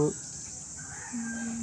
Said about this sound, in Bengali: ভিন্ন স্বাদের পাখির ডাক